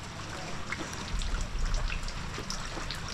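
Rain patters on a tarpaulin overhead in a light, irregular stream of drips and soft taps, with a brief heavier rush in the middle, fairly quiet with no voices.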